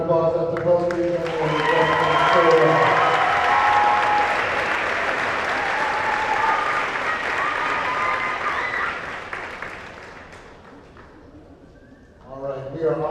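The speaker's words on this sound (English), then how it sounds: "Let's give a nice round of applause after both of you." An audience at a high school senior honors convocation breaks into broad, full applause that swells, holds, then fades out, with a voice speaking briefly before it starts and again as it dies down.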